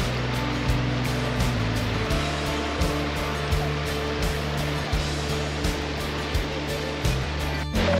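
Waterfall at Rocky Mountain National Park: a steady, loud rush of falling water roars continuously with no pauses.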